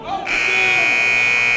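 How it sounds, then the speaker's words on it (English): Buzzer ending a quarter at a high school boys basketball game in a gym: after a brief murmur of crowd, a loud, steady electronic tone cuts in and holds, with voices beneath it. "At the buzzer."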